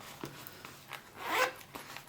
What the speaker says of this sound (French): avec la jolie poche fermeture éclair devant